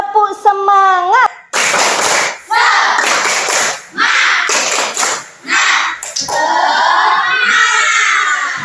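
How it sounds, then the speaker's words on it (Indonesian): A primary-school classroom of children performs a rhythmic spirit clap in Indonesia, with bursts of group clapping and chanted voices alternating in a patterned beat, preceded by a teacher's sung lead. "yuk kita tepuk semangat terlebih dahulu"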